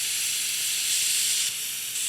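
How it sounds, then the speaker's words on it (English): Steady loud hiss of steam venting from a pressure cooker's release button, continuous and close, dipping briefly in strength near the end. "This releases the steam."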